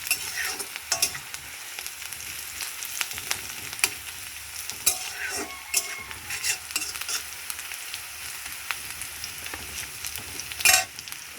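Onions and spices fry in a pan for a hilsa-style fish curry, making a soft, continuous sizzle. Frequent clinks and scrapes from stirring sit over it, with a sharper clatter near the end.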